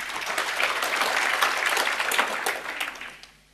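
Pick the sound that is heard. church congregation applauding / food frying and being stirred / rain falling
church congregation applauding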